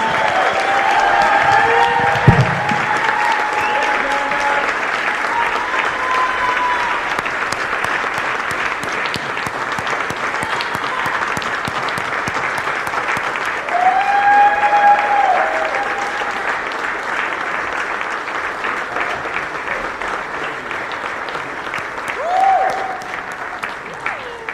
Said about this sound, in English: please welcome with me 2025 inductee to the Gravel Cycling Hall of Fame, Amanda Panda Nauman Sheik, everybody.